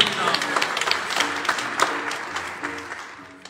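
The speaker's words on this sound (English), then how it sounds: "Give her a nice round of applause" A crowd at a temple gathering gives a round of applause, with sustained clapping and scattered individual claps while a voice talks over it.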